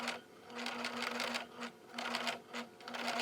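A Singer sewing machine stitches lace onto the edge of a fingertip-length wedding veil, running in steady bursts of rapid mechanical clatter with brief pauses between them, close and fairly quiet with no voices.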